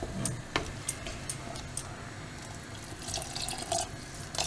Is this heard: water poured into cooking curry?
yes